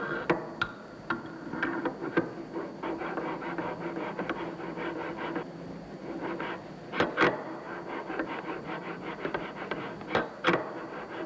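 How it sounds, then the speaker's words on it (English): Fuel valve housing mating surfaces being ground by hand: a steady rasping scrape in repeated strokes, broken by sharp taps and clicks, close and fairly quiet with no talking. "the valve housing's mating surfaces are ground as well."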